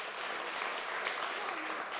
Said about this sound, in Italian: un altro forte applauso al nostro corpo di ballo